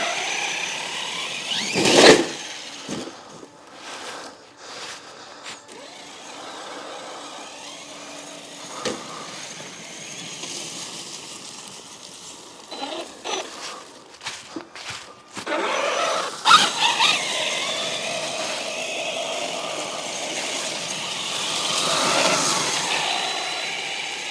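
A Traxxas Sledge RC truck drives and launches in repeated bursts, its electric drivetrain whining and its tyres scrabbling close by, with clattering thumps where it lands.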